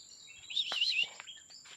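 A Palau fantail sings outdoors in Palau, a faint thin series of high chirps and short twittering notes over a steady insect hum.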